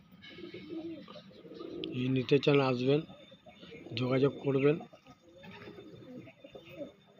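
Andhra-line pigeons kept for sale coo softly in the background while someone talks over them at close range.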